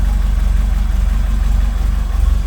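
A 1968 Ford Escort Mk1 engine idling low with no choke attached, a loud, close, steady rhythmic chug with even pulsing throughout.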